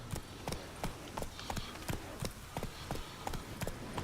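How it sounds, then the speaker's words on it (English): Horse hooves gallop in the video game The Witcher 3: Wild Hunt, a quick steady clip-clop rhythm of repeated hoof strikes at moderate loudness, with no speech. "How do I get the horse in there?"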